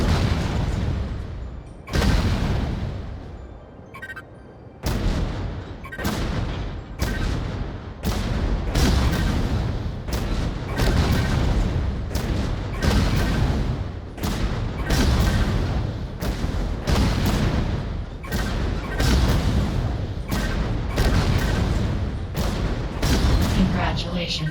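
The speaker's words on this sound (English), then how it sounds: "Use both cannons to take out the last target" Mech cannons fire in rapid succession during a Vox Machinae training exercise, a long series of loud, sharp booms at a quick, slightly uneven rhythm.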